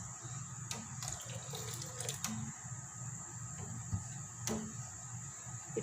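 Vinegar poured slowly onto hot soy milk while making tofu, a soft continuous trickle and splash with a steady hum behind it and a few light clinks.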